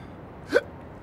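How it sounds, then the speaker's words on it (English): A single hiccup, short and sharp, close and fairly loud against a quiet room, with no talking. "You want to kill your hiccups, don't you?"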